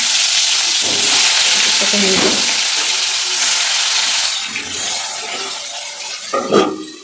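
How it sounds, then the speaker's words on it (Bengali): Fish fries in hot oil that hisses and sizzles steadily with sharp crackling pops, close and fairly loud, while a voice speaks intermittently. "এই মাছটা না খুব ফোটে, তাই দিয়ে না ঢেকে দিতে হবে"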